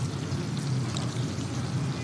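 French fries fry in hot oil, giving off a steady close-up bubbling sizzle with a dense, even hiss and no talk.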